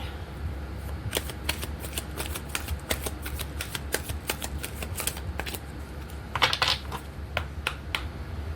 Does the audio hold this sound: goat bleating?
no